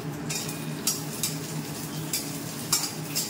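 Paneer pieces fry lightly in oil in a pan, giving a soft steady sizzle with occasional light clicks of a utensil stirring, close and moderately quiet with no talking.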